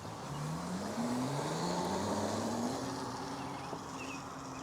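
A CFMoto CForce EV110 electric youth ATV driving outdoors, a faint rising electric motor whine with a light chain rattle under steady wind and tire noise, fairly distant and quiet.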